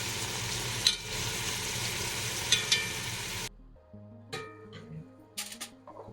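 Pieces of beef sear in a pan for a beef stroganoff, a dense, steady sizzle with a few sharp pops, which cuts out partway and leaves quiet scattered clinks and faint crackles.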